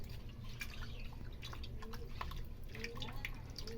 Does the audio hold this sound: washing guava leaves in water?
yes